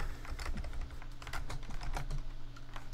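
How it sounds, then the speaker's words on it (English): Rapid, uneven tapping of keys on a computer keyboard, steady and fairly close, over a low background hum with no talking. "Someone is typing."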